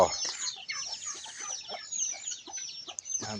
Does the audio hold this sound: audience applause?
no